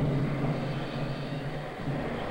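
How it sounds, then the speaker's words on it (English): Airplanes taking off along the East Coast ahead of a winter storm, a steady distant engine roar and drone that holds evenly without pause. "the last planes are taking off, trying to beat the storm."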